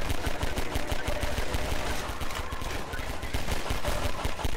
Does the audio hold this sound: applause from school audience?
no